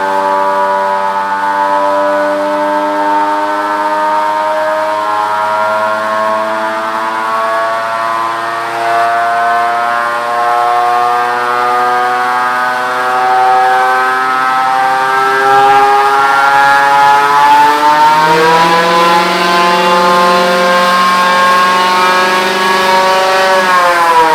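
A 2024 Chevrolet L5P Duramax diesel truck tuned to about 700 horsepower pulls hard on a chassis dyno, its loud sustained engine drone climbing steadily in pitch with a brief shift partway through, heard alone without talk.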